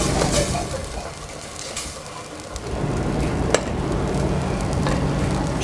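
Onion fries in a pan with a steady, close sizzle that swells louder partway through and holds, broken by a sharp click near the middle.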